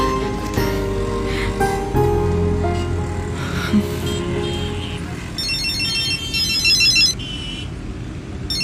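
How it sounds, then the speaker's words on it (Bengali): A mobile phone rings inside a car, its electronic ringtone a repeating tonal pattern that sits over music and the low rumble of the moving vehicle. "ওনার ফোনটা বাজছে।"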